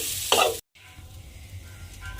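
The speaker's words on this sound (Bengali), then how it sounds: "নারকেলটা দিয়ে আবারও একটু ভালোভাবে নাড়াচাড়া করে নেব" Grated coconut filling for cabbage patishapta stirred in a pan: one brief, bright scrape and sizzle, then a sudden cut to near silence with only a faint low background.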